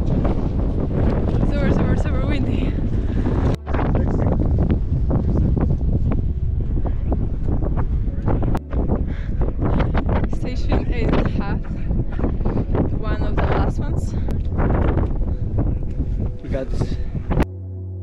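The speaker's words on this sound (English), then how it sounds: "Super windy." Strong wind buffets the microphone on a night climb toward the summit of Mount Fuji, a loud, steady roar that runs through the whole stretch with brief dips, while people talk underneath.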